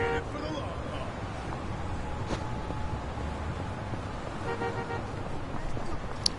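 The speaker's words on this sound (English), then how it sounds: "We got a honk." A car horn honks amid city traffic in the Yakuza: Like a Dragon video game, a short toot over street noise, with someone talking during it.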